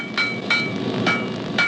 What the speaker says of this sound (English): The ring of the blacksmith's hammer was a part of rural life for centuries.